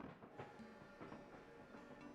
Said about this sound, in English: So we're on a train now.